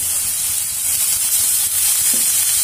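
Ginger, capsicum, carrot and cabbage being stir-fried in a pan for spring roll filling, giving a steady close sizzle and hiss with soft stirring scrapes throughout.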